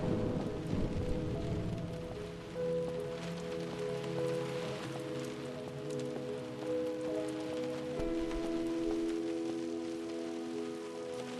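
Steady rain pours throughout a thunderstorm in the game Close to the Sun, with low rumbling thunder underneath. Sustained musical tones run alongside the storm.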